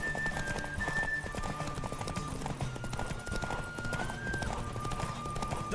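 Horse galloping in The Witcher 3 during a race, rapid rhythmic clip-clop of hooves continuous throughout, with music tones and ambient game sound layered over the pounding steps.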